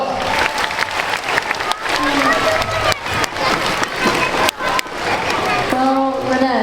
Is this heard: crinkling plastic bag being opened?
no